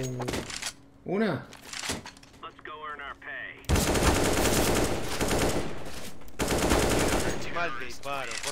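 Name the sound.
gunfire in a shooter video game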